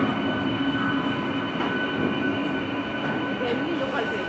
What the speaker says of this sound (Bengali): এমনি লোকাল ট্রেন হ্যাঁ হ্যাঁ আরেকটা ছিল এক্সপ্রেস লোকাল ট্রেন